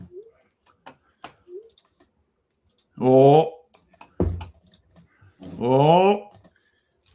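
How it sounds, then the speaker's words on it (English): Soft, scattered keyboard clicks from typing on a computer, quiet and close, broken by two long bursts of laughter and a short spoken word. "What are you doing? What are you typing?"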